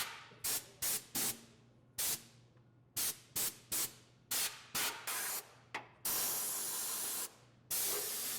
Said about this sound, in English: Blow dust and debris off the internal components.